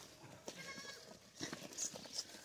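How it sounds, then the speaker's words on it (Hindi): A goat offered for sale bleats in short, faint cries close by, with a few louder calls toward the end over a quiet outdoor background. "अच्छा ये बकरी है"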